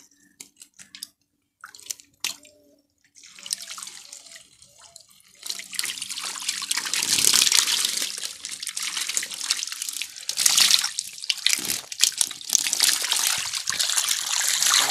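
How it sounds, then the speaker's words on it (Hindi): Green Terror cichlids splash and jump in an aquarium tank, with quiet sparse drips at first, then sustained loud churning and sloshing of water with irregular splashes throughout. "ग्रीन टेरर देखिए, बहुत ही जंप कर रहा है पानी के अंदर में"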